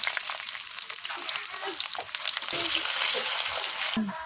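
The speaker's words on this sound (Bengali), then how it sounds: "এটা পেঁয়াজ ভাজা হয়ে গেছে" Steady, loud sizzling of onions frying in hot oil fills the whole clip, with occasional stirring scrapes and no talking.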